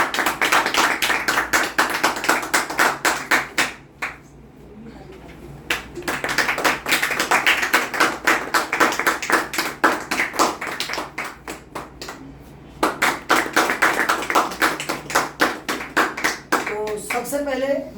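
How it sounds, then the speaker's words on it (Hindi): Applause for three students who cracked the NEET 2022 medical entrance exam, a dense crowd clapping loudly in repeated bursts that pause briefly and then swell again. "एक बार ताली बजाई जाए सबके लिए।"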